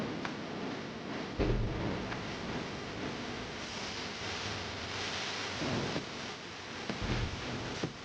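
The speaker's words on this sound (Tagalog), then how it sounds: "Kasi na, umuulan ngayon ngayon" Steady rainfall hisses throughout, with a few low rumbling thuds breaking in now and then, like distant thunder.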